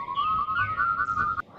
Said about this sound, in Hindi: हमें हमारे पीछे से किसी की सीटी बजाने की आवाज़ सुनाई दी।